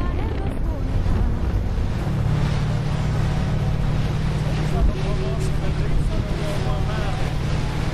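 Motorboat planing across open water, a loud continuous rush of hull and engine noise with wind buffeting the microphone throughout.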